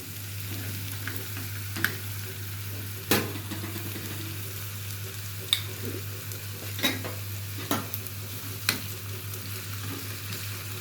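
Dried coriander dropped into golden-fried oil and stirred in a pan for Egyptian molokhia, a soft steady sizzle beneath a low hum, punctuated by several sharp clicks of a utensil against the pan.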